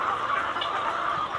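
Chickens cluck in a dense, continuous chorus against a steady background hiss.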